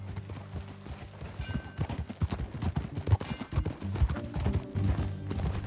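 Horse hooves clip-clop in an uneven, steady rhythm, fairly close, with a faint whinny and some background scoring mixed in, from the video game Red Dead Redemption 2.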